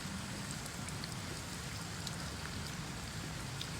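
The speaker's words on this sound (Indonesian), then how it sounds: "Hujan lagi." Steady rain falls over a village garden in the cool rainy season, a constant soft hiss with scattered drops, moderately quiet and uninterrupted.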